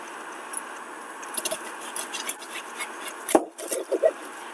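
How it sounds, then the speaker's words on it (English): A kitchen knife trimming the root ends off an onion on a cutting board, a few light scraping and tapping cuts with one sharper chop near the end, close and fairly quiet. "You cut off the two root ends of the onion."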